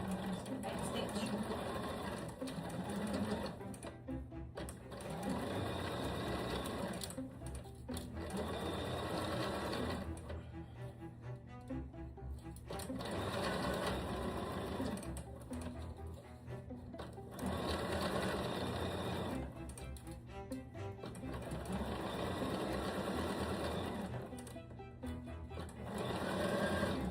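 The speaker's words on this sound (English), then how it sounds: "this is just sewing up the side seam, and I have a 1/2 inch seam allowance here" A sewing machine stitches the side seam of a silk cami with a half-inch seam allowance, running in steady bursts of close, continuous whirring separated by short pauses, with a brief back stitch.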